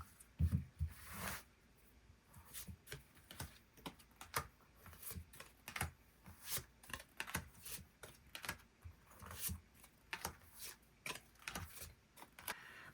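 Tarot cards are drawn and handled in a quiet room, giving a run of soft, close papery flicks and taps spread unevenly over several seconds with no talking.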